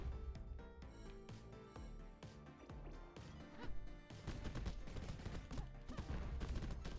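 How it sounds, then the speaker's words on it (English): Explosions and crashing blasts go off in the Super Crush K.O. video game, a dense run of sharp bangs and impacts over game music, growing busier and louder partway through. "Random explosions."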